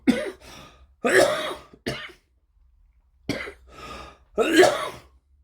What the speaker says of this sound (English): I just seem to have a coughing fit